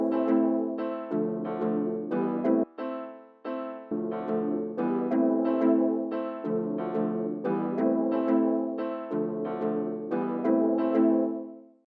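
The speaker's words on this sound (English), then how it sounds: "Now we have a piano, kinda on the offbeats." Piano chords stab in a steady, syncopated offbeat pattern within a dancehall beat, each short block of notes clipped off before the next, looping evenly and clearly with no voices.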